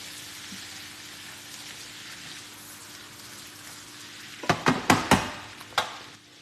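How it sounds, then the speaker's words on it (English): Onions sautéing in a pan, a soft steady sizzle running throughout, then a quick burst of sharp clinks and scrapes near the end as they are stirred. "add your onions. Let that saute for a little bit."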